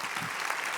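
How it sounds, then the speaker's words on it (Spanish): Brief, faint audience applause at a research workshop, a steady wash of clapping heard from a distance. "un aplauso muy fuerte para ellos"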